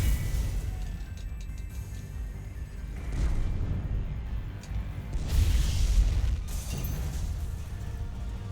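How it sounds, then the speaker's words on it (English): Deep booming blasts and rumbling crashes roll through a continuous low roar in Mass Effect 3, several bursts swelling and fading in succession. "Man, got a whole lot of explosions going on."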